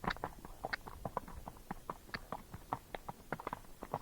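Missouri Fox Trotter horse hooves clip-clop in a quick, even fox trot gait on firm ground, close by and fairly soft.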